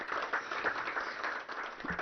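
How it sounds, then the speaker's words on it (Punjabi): An audience at a public address in Punjab claps together, producing a dense, continuous patter of many hands that stays moderately faint and steady throughout. "ਇੱਕ ਵਾਰੀ ਆਪਾਂ ਵੀ ਮਾਰ ਦਿੰਨੇ ਤਾੜੀ ਤੁਹਾਡੇ ਲਈ"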